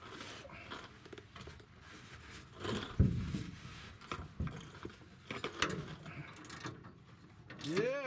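A rusty spare tire winch under a Dodge Ram pickup grinds and clicks in uneven ratcheting bursts at close range, with a sharp knock about three seconds in and people speaking faintly in the background.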